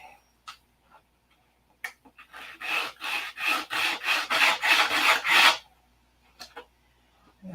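Sandpaper rubbed back and forth across wood in a run of about nine rhythmic, raspy strokes, close and fairly loud, with a few scattered taps and knocks before and after.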